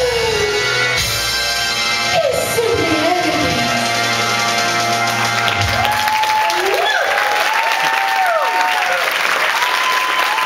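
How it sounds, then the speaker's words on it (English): Audience applause at a Sunburst 2012 show in Florida, a steady dense wash of clapping filling the whole stretch, loud and close, with crowd voices and faint whistles mixed in. "a big round of applause for Camille Terry."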